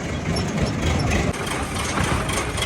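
An 855 farm tractor idles in a village lane, giving a steady low rumble with a faint rhythmic throb, close and fairly loud, with no one talking.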